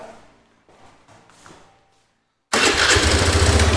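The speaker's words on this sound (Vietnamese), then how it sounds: "tôi sẽ nhờ bạn học viên khởi động động cơ giúp tôi ạ" A scooter with a sluggish-running fault is started: after soft clicks and handling noises and a brief silence, the engine abruptly catches and settles into a loud, steady close-up idle.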